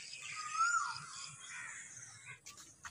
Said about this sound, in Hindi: दोस्तों अभी कोयल की आवाज़ की आप सुन सकते हैं